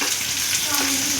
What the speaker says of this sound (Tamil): வெங்காயம் போட்டுக்கலாம். கருவேப்பிலை போட்டுக்கலாம்.